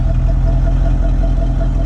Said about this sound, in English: It's still factory type exhaust, even though it may not be original.